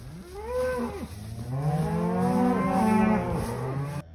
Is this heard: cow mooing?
yes